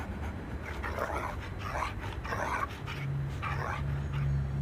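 Stray dogs in Moscow pant in rapid, breathy bursts, close by, over steady background noise, with a faint low hum toward the end.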